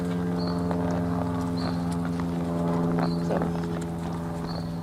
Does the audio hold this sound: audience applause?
no